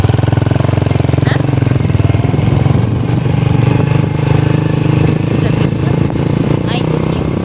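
A motorcycle engine runs nearby with a loud, steady, rapid chugging throb that persists throughout, while people talk over it.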